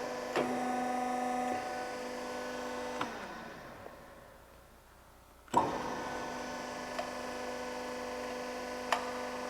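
TTMC M55 hydraulic ironworker running idle after a foot-pedal press, giving a steady mechanical hum with a few sharp clicks; the hum dips briefly, then resumes with a distinct clunk, never rising into working strokes.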